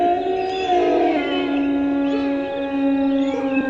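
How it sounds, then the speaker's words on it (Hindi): A pack of jackals howls from across a river near a cremation ground, long wavering cries overlapping in a sustained, fairly loud chorus with no talking. "हठात सियारों का एक झुंड नदी के उस पार से बोल उठा।"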